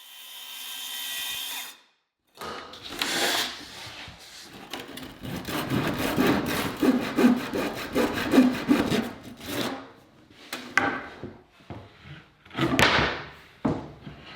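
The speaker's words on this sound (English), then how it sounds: "I'll use the circular saw again for the next cut, stop at the line, and finish the cut with the handsaw." A circular saw and then a handsaw cut plywood: a brief steady motor whine, a pause, then a run of quick rhythmic rasping strokes and a few scraping bursts, close and fairly loud with no talking.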